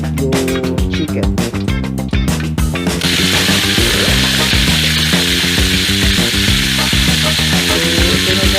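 Marinated chicken for Filipino chicken hamonado drops into hot oil, which sizzles and crackles loudly and continuously, the frying hiss swelling after a few seconds while a rhythmic musical backing plays throughout.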